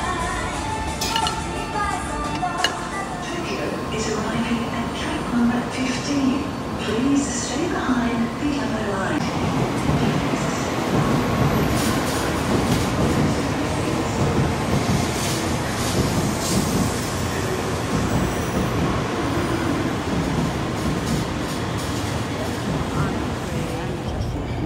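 Inside a Japanese bullet train near Nagoya: a steady low rumble and rolling hiss of the moving carriage, with light clinks of dishes and people chatting quietly throughout.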